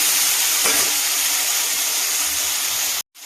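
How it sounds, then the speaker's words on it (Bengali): Small potato pieces frying in mustard oil in a pan, a steady loud sizzle and hiss that continues throughout and cuts off abruptly at the end. "ওই তেলেই এবার আলুগুলোকে ভেজে নেব। দুটো আলু ছোটো ছোটো করে কেটে রেখেছি, আলুগুলোকে একটু ভেজে নিচ্ছি।"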